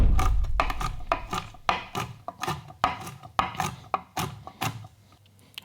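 A knife chops a mix of almonds and walnuts on a board for homemade chocolate granola, a series of irregular sharp close cuts and scraping taps, alone without talk.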